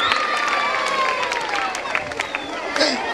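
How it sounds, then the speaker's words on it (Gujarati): An audience claps and cheers steadily at a Rawal community function, the dense applause close and loud from start to finish with crowd murmur and voices mixed in. "જોરદાર તાલિયા જયંતિભાઈ"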